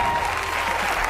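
Brief burst of studio audience applause on live television, a dense steady patter of clapping lasting about a second.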